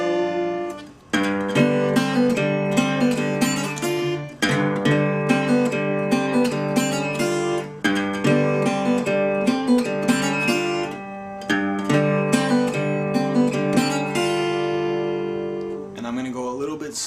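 Acoustic-style blues guitar riff from a song, a repeating twelve-note hill-country pattern played through several times in steady rhythm, close and clear with no talking.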